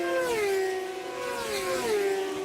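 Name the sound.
F1000 race car engine running below full revs on straight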